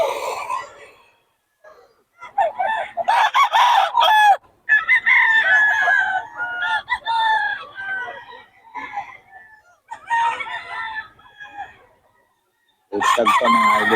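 A blue stag rooster crows several times nearby, loud drawn-out calls broken by pauses, with clucks and other fowl around and a voice talking at the start and end.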